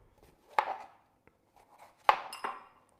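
Knife slicing red capsicum into thin strips on a board, two sharp chopping strokes about a second and a half apart with softer taps between, close and fairly quiet.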